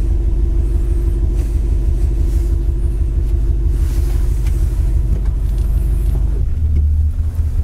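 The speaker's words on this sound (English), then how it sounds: "Car really idles nicely" A 1957 Chevrolet Bel Air with new exhaust gaskets idles close by, a smooth, loud, even low rumble with a steady pulse that shifts slightly in pitch near the end.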